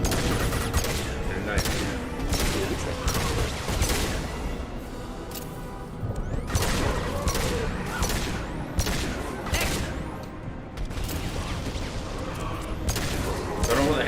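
Heavy gunfire rattles through a Mass Effect 2 battle in repeated loud bursts and sustained volleys, with brief lulls between barrages, while a voice speaks briefly over the shooting.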